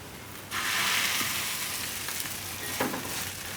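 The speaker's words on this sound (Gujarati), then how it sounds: "અને આ તવી આપણી હવે ગરમ થઈ ગઈ છે. તો આને આપણે શેકી લેવું." A bread sandwich with a moong filling toasting on a hot griddle over a low flame, its steady close sizzle starting abruptly and continuing evenly, with a couple of faint light clicks and no talking.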